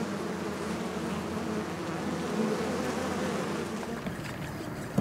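A dense, steady buzz of many honeybees swarming close around a hive, continuous and loud throughout, with no voices.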